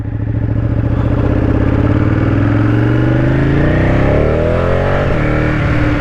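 A 2017 Ducati 959 Panigale sport motorcycle accelerates hard while being ridden, its engine note climbing steadily in pitch. It is loud and close, with no talk.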